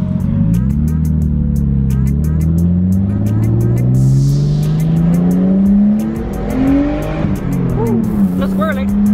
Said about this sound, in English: This is the most off-roading, honestly, that the Skyline has ever done.